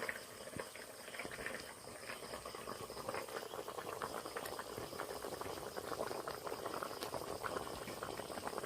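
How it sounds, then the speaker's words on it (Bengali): Egg and dal curry bubbles steadily in a cooking pot, a continuous soft simmering crackle and burble with no voices over it. "তো তরকারিটা ভালোভাবে ফুটে গেছে।"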